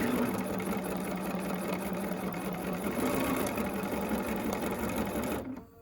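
A sewing machine stitches quilt triangles with a steady, close, fast-running mechanical whir that holds for several seconds before stopping abruptly.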